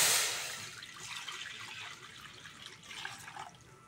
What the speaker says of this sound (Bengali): কড়ার মধ্যে অল্প করে জল দিয়ে দেবো।